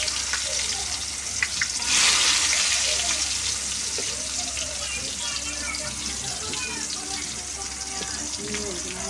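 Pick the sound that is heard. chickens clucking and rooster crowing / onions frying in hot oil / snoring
onions frying in hot oil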